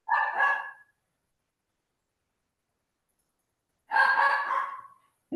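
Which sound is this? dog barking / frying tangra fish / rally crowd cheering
dog barking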